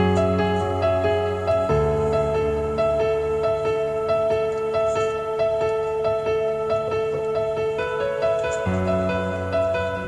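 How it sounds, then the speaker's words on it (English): A piano plays a steady melody over sustained chords, with the harmony changing twice. Nobody speaks. "So the piano is coming from Contacts"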